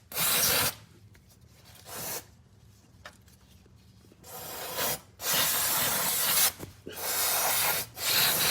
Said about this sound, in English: And then I just spray brake cleaner to help me clean all the liquid